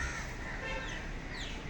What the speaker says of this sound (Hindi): शाम का टाइम हो रहा तो चिड़िया पंछी भी अपने घोंसले में जा रहे हैं।